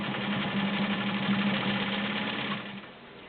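A vintage heavy-duty Dressmaker sewing machine runs a zigzag stitch with a loud, steady motor hum and fast needle chatter that winds down as it stops near the end.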